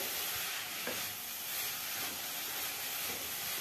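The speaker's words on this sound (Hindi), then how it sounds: "फ्लेम हाई है, हाई फ्लेम पे ही भूनना है" Pumpkin being roasted and stirred on a high flame for pumpkin halwa, a dense continuous hissing sizzle with faint stirring knocks, close and even throughout without speech.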